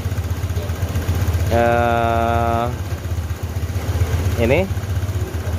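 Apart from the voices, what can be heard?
Honda Vario 150 scooter engine revving after throttle body service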